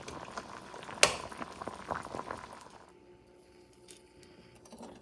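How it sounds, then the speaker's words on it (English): Plantains boiling in a pot of water, a soft steady bubbling with a sharp knock near the start, fading quieter toward the end, no voices. "So I'm going to let them boil."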